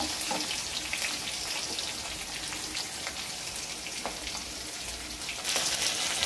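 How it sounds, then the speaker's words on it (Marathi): Garlic and green chili fry in a pan with a steady, dense sizzle and crackle that runs throughout, close and continuous with a few small stirring clicks and no voices. "लसूण पण छान परतून घ्यायचा"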